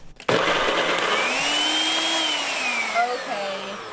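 A blender mixing sticky date caramel whirs loudly and steadily after a brief start, its motor pitch rising then dipping as the contents thicken and churn.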